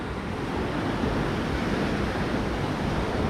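Stormy sea waves break at a pier on an empty beach at Ordzhonikidze in Crimea, giving a dense, continuous close-up roar of surf mixed with wind noise, with no voices.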